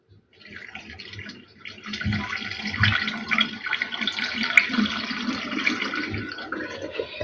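Water pours steadily into a jar holding salt and sugar, close by, a continuous splashing gurgle that builds after a brief quiet start and runs without pause.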